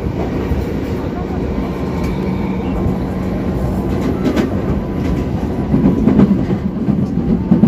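A train rolls into a station with a loud, close rumble and a rhythmic rattle of wagons, growing heavier toward the end, while voices talk faintly underneath.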